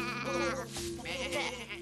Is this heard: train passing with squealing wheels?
no